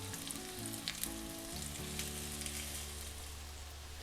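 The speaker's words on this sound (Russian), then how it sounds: "Жарим их на среднем огне с 2 сторон до румяной корочки." Zucchini fritters fry in a pan over medium heat, giving a steady, close sizzle and crackle with a few brighter pops throughout, heard alone without any talk.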